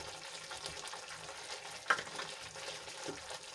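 Crushed green pea paste being stirred into a gravy frying in a pan for a green pea curry, giving a steady soft sizzle with light scraping and one brief sharper clink midway.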